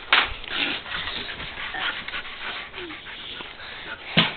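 A puppy whimpers and yips softly close by, small whining cries with some panting and a couple of louder bursts at the start and end.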